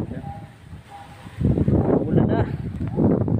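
Strong gusting wind during Typhoon Lando, rushing and buffeting the microphone in loud surges outdoors.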